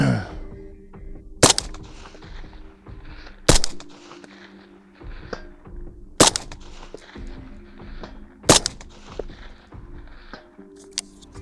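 A rifle chambered in 6 ARC fires Hornady ammunition, four sharp, loud cracks spaced a couple of seconds apart, each decaying quickly, with quieter handling noise and rustling between shots.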